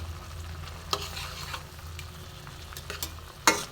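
Fish curry with tamarind pulp being stirred in a pan, a soft steady scraping and low simmer with a few sharper utensil clinks against the metal, the loudest near the end.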